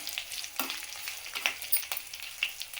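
Ingredients fry in a pan for an Andhra-style pappu bachali curry, a soft continuous sizzle with light stirring taps and scrapes recurring every half second or so, close and fairly quiet.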